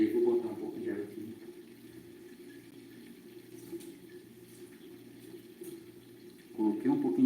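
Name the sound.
water being poured into a bucket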